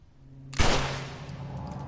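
A single loud gunshot fired at a lock in The Last of Us video game: a sudden sharp blast followed by a long, echoing tail.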